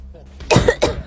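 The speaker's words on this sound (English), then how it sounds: "Why is everyone coughing?" Two quick, close coughs sound in sharp succession, loud and dry, over a faint murmur in a text-to-speech ASMR art story.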